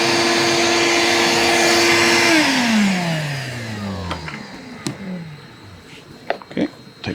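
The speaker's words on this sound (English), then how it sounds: "let's go see what the shop vac looks like right now" A shop vac runs loudly and steadily, then its motor winds down with a falling pitch, followed by faint clicks and handling noises.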